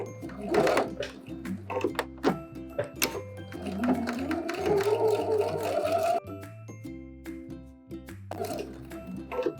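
A sewing machine stitches a dart from its base up to the tip, motor whirring in steady runs with brief pauses and clicks between bursts, close and fairly loud with no talking.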